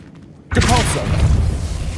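A Depulso spell cast in the Hogwarts Legacy video game: a sudden, loud, booming blast that erupts after a short quiet moment, with a brief voice call mixed into the rumbling burst.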